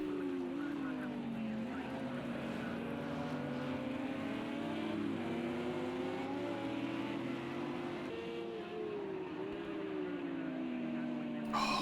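Porsche GT3 race cars lapping the Texas road course in Project CARS 2, their engines holding a loud, continuous whine that climbs and dips with gear changes and throttle for the whole stretch.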